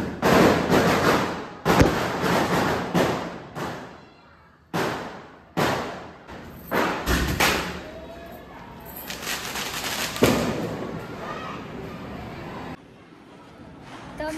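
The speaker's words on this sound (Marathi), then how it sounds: "फटाकडा जाम वाजतात यार" Diwali firecrackers bursting in a string of sharp, loud pops and bangs, some quick and close together and others spaced apart, with crackling and scattered voices in between.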